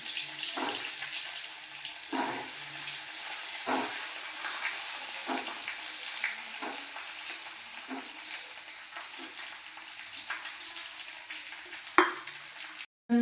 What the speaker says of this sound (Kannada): ಹೀಗೆ ಎಣ್ಣೆ ಕಾದಾದ್ಮೇಲೆ ಒಂದೊಂದೇ ಕ್ಯಾಪ್ಸಿಕಮ್ನ ಬಿಡೋಣ.